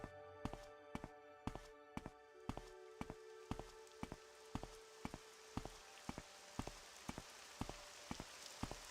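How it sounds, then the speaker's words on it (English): Steady rain pattering down in the video game Morrowind, a continuous soft hiss with a regular ticking rhythm running throughout, fairly quiet and with no talk over it. "Ugh, it's raining."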